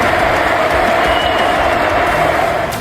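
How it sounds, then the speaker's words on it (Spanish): A stadium crowd applauds and cheers Modric as he is substituted in Real Madrid's 2-0 win over Girona, producing a steady, dense roar of clapping and voices throughout. "Modric salió sustituido bajo una ovación tremenda."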